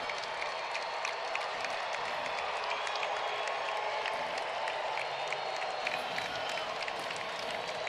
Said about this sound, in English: The crowd is on their feet in SunTrust.